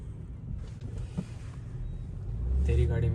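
A BMW X5 M Sport with a 3000 cc engine in Eco Pro mode builds from a low cabin rumble to a stronger, rising engine roar near the end. People talk inside the car over the sound.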